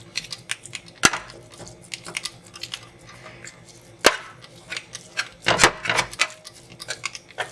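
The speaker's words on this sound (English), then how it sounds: "So I like to chop this up really quick for fast cooking." A knife chops raw meat on a board for spaghetti sauce, giving uneven sharp knocks with a few louder thuds standing out among quicker clustered cuts, close by with no one talking.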